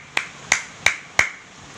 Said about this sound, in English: Ma'am is clapping.